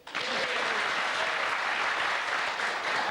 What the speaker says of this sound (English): That was worthy of applause